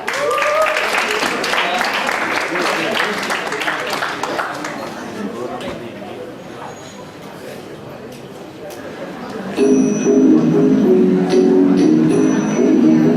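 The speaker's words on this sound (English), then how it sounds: "Round of applause for her." Audience applause for a classical dance performer at an Independence Day celebration, clapping and crowd chatter under a speaking voice, fading midway before lively crowd noise returns.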